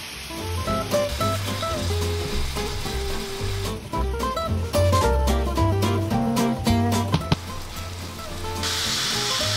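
Ground meat frying in a pan beside sautéed green peppers for Sloppy Joes: a steady sizzle with occasional stirring, partly masked by louder background music.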